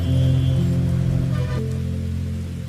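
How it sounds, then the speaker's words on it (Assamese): Light drizzle patters softly and evenly on a surface, a steady gentle rain bed under a faint low hum, with no voices. "চিপ চিপকৈ বৰষুণ দি থকাৰ বাবে তাই ছাতিটো মেলি ল'লে"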